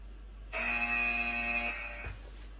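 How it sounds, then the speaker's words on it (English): An interval timer in a fitness class gives one steady electronic buzz of about a second, clear and moderately loud over a quiet room with a low hum. "And there's the buzzer, so we're back to our feet."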